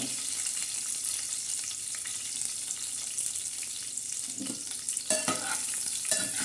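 Chicken fries in an oil spice tempering with black masala, giving a steady close sizzle under stirring, with a few louder scrapes and pops near the end and no speech.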